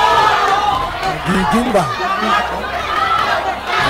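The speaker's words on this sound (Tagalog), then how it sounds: "Ang crowd na reaction." Crowd reacting at a Manny Pacquiao boxing fight, a steady roar of chatter and cheering filling the arena with voices talking over it.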